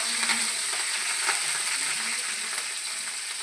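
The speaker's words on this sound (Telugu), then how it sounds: "ఇక్కడ సపరేట్గా ప్యాన్ పెట్టి ఆయిల్, పచ్చిమిర్చి, ఆనియన్స్ వేసి వేయించాలి" Green chillies and onions fry in oil in a pan, giving a continuous bright hiss and sizzle with faint crackles and occasional stirring scrapes, close and steady throughout.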